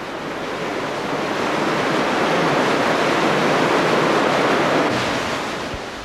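The Cares river rushes through its rocky gorge along the Cares trail between Posada de Valdeón and Caín, a loud, steady broadband roar of flowing water with no voices.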